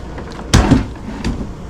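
A deep drawer in an RV kitchen slides open with a single quick thump and rattle, then a fainter knock follows, heard close by in a quiet interior.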